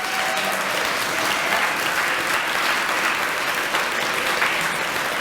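Steady, full applause from an audience at a Black History Month celebration in DeKalb, a continuous wash of many hands clapping at an even level for several seconds.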